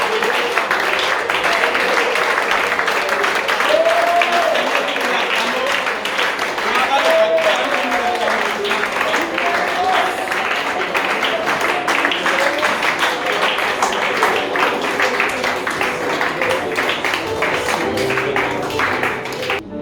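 A church congregation at a night vigil applauds steadily in continuous rhythmic clapping, loud and close, with voices talking and acclaiming the Lord throughout.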